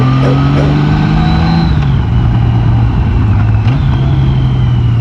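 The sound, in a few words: car engine revving while clutching in first gear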